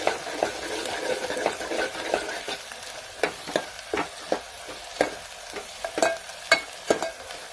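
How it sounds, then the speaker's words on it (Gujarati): Ginger garlic paste crackles in oil with onions and chilies, a steady sizzle punctuated by regular scraping stirs and clinks of the spoon against the pan, close and moderately loud. "આદુનું લક્ષણ આપણે નાખી દીધું છે આવું ઘડીક કકડવા દઈએ"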